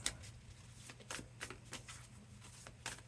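Tarot cards being shuffled close by, a run of soft riffling flicks and slaps in uneven bursts over a low steady hum, with no talking.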